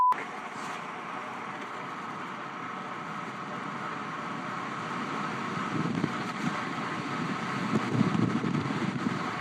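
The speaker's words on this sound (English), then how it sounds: "the wind is strong" Strong wind buffets the microphone outdoors in a steady low roar that swells slightly toward the end, with no voices.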